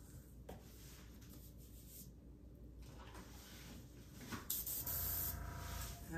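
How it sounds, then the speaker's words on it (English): An air compressor's nozzle blows a hissing stream of air across a fluid acrylic Dutch-pour painting. The hiss runs steadily at close range and grows louder and broader toward the end. "I have my air compressor."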